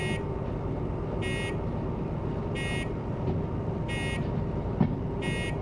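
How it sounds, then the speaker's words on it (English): A train alarm bell in the Derail Valley railway simulator sounds as five evenly spaced, bright electronic rings about a second apart over a steady low locomotive rumble. "It sounds more like an alarm. Like you tried to steal the train or something."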